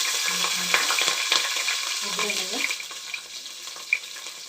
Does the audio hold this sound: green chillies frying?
yes